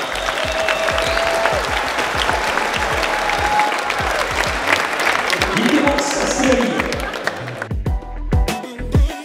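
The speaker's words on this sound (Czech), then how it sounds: "Pojďme jim všem ještě jednou dohromady zatleskat." Sustained applause from a large crowd at a bouldering competition, dense clapping that continues steadily and then thins out toward the end.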